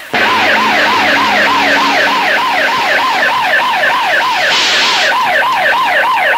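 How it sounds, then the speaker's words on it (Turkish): A police car siren wails loud and close, its rising and falling tone cycling steadily and without a break. "polis arabası"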